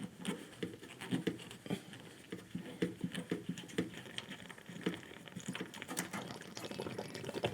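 Water gurgles and splashes irregularly into a bucket as it drains from a Rheem tankless water heater being flushed, with bursts of pattering and trickling at close range.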